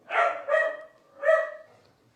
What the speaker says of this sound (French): Désolé pour les chiens en arrière qui s'expriment dans le centre de la gorge.